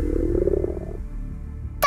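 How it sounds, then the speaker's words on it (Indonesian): Cartoon stomach rumbling from hunger: a loud, low, wobbling gurgle lasts over a second and fades, then a sudden bright sound effect cuts in at the end. "Perut Lily yang keroncongan"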